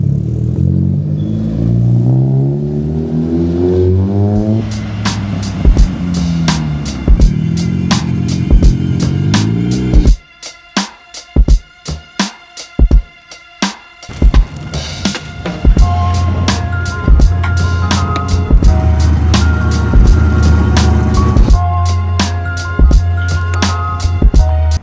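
A 600 hp Honda CR-X Del Sol runs loud and close, revving and shifting through rising and falling engine tones, then cutting to sharp bursts and clatter before settling into a heavy steady drone.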